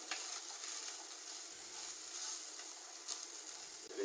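Bacon frying in a pan for risotto gives a steady, close sizzle with soft crackles and faint stirring noises, moderately quiet and uninterrupted by voices.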